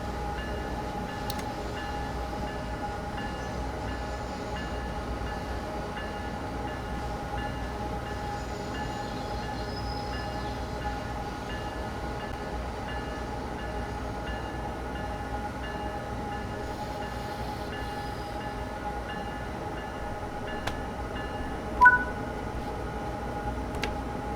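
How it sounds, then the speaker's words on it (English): An Amtrak passenger train rolls to a stop into Providence, Rhode Island, in Train Sim World 4, a steady low rumble and cab hum with faint clicks and one brief louder knock near the end. "So now our train's stretched out as we're coming to a stop."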